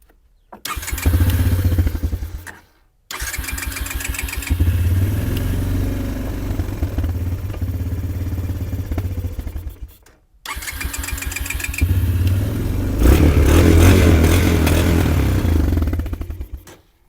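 A small petrol engine in need of a new carburetor is cranked with a YESPER YJS40 jump starter and catches, sputtering into a loud, uneven clattering idle with a brief cut-out before revving again, close and without voices.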